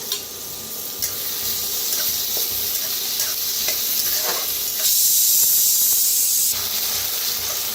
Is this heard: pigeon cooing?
no